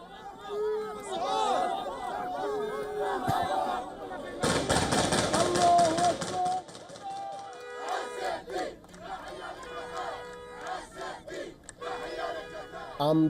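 Crowd of Palestinians celebrating in the streets of Gaza, many voices chanting and shouting together in loud, rhythmic bursts, with a dense surge of noise midway and chatter around it.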